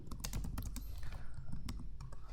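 Keys clatter on a computer keyboard as a search is typed into the Windows 11 start menu, a quick, close run of irregular taps over a low background hum.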